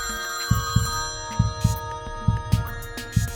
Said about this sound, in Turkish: Profesörün evde olduğu sırada telefonu Mossad ekipleri tarafından çalar.